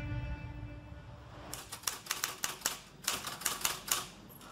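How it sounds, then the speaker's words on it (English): A municipal typewriter's keys are pounded in a rapid run of sharp clacks that starts after a low hum and continues evenly, close and fairly faint. "hands did not always pound the keys of a municipal typewriter"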